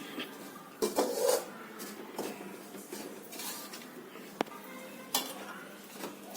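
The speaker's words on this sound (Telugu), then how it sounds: "బాండి సెగ తగ్గేదాకా మనం కలుపుతూనే ఉండాలి" Laddu flour being stirred in a hot kadai with a spoon, giving a few scraping clinks and knocks against the metal pan, close and moderately loud, with quiet gaps between strokes and no talking.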